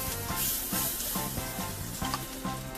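Butter sizzling on a hot grill as it is added for grilling, a steady close crackling hiss with a repeated rhythmic scraping or stirring pattern underneath, no talk.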